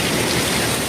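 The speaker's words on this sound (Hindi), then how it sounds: "देख सकते हो कितना तेज बारिश हो रहा है" Heavy rain pours down in a steady, dense roar, loud and close, with no voices over it.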